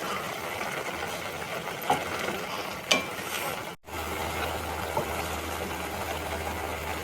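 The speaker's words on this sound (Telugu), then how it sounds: "ఒక 2 minutes ఎగ్స్ ఈ మసాలాలో ఉడికిద్దాం" Eggs simmering in masala in a pan, a steady low sizzle and bubbling throughout with a couple of faint clinks and a brief dropout midway, no talking.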